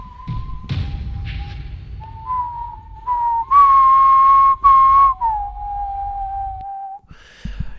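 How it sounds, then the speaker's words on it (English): A whistled tune, the wolf's whistle of death from the film Puss in Boots: The Last Wish, rings out in clear sustained notes that rise and fall, loud and close, after a soft thump at the start. "that is the wolf's whistle of death from Puss in Boots, The Last Witch"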